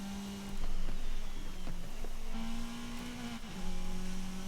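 A 2003 Toyota Celica engine in Forza Horizon 5 held near the redline, a steady buzzing engine tone that dips and climbs again as the throttle eases off and comes back on.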